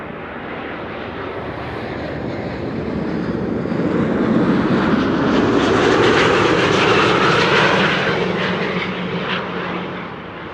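An Emirates Airbus A380 arrives at Amsterdam Schiphol on a frosty, sunny morning. Its broad jet roar swells steadily, peaks loud and close midway, then slowly fades with no voices.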